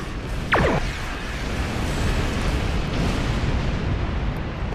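Dense, continuous roar of explosions in a space combat video game, with a sharp whooshing sweep early on, loud and sustained throughout without any talking.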